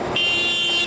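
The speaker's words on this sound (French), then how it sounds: "Ah, ils sont malades à klaxonner tout le temps." A car horn blares in one steady, sustained honk over a dense background of traffic noise in India.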